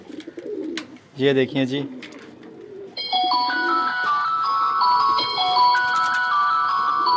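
Pigeons coo briefly near the start, close and moderately loud, after someone speaks; a loud electronic ringtone-like melody then plays over them to the end.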